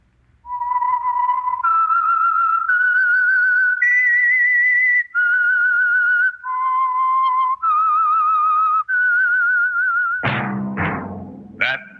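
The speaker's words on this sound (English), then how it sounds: "That whistle is your signal for the Signal Oil program, The Whistler." A lone whistler performs the slow, clear signature melody of the 1948 radio drama The Whistler, held notes that step up and then fall back down, followed by brief sharp sounds at the end.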